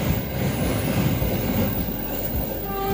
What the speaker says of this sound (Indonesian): Nih, oh ada kereta